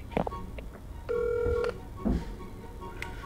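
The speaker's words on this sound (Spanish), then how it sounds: "por favor, cógeme el teléfono" A telephone sounds a single steady electronic ring tone lasting about half a second, clear and close, framed by brief clicks and knocks from handling, with no speech.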